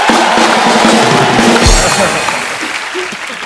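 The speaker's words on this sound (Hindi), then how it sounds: "जोरदार तालियां हो जाए एक बार" Dense applause from an audience fills the clip, loud at first and tapering slightly toward the end, with some voices mixed in.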